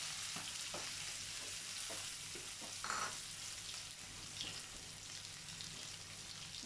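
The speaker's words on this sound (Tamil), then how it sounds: "வெங்காயம் நல்லா வதங்கிச்சிங்க, பொன்னிறமா" Ten small shallots and two large onions fry in oil in a pan until golden for a spicy garlic curry, giving a steady soft sizzle with occasional scraping stirs, fairly faint and close, with no talking.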